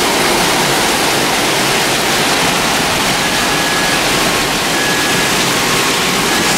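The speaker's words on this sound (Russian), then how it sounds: "Реально река течет уже." Floodwater rushing like a river through city streets in Odessa after a downpour with hail and wind, a loud, constant roar filling the whole clip with no talking.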